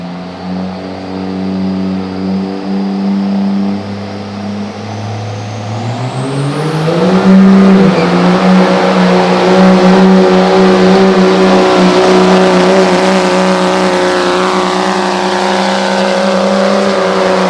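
A diesel truck engine at a street diesel truck pull event drones loudly, then revs higher and holds a strained, roaring pitch as the truck lurches off the line and keeps pulling steadily.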